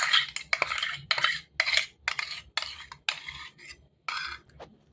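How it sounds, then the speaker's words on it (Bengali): Repeated scraping and clinking of a utensil against a bowl as blended cheese cream is poured and worked in with lemon zest, coming in short close bursts with brief pauses between them. "এই যে এখানে বোলের মধ্যে জিসটা ছিল লেবু, এর মধ্যে আমি এই ক্রিমটাকেও ঢেলে দিচ্ছি।"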